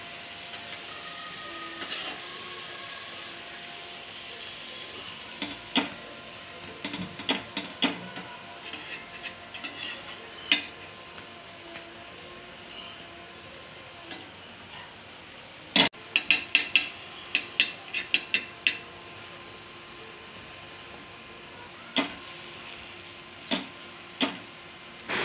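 Paneer cheese sandwich toasting in butter in a pan, a soft steady sizzle with scattered scrapes and clinks of a spatula against the pan, no voices.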